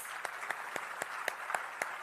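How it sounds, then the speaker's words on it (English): Quiet, sustained applause from an audience at the IIESL membership award ceremony in Sri Lanka, a soft hiss of clapping marked by a few sharper, evenly spaced claps standing out. "shall we give them all another massive round of applause?"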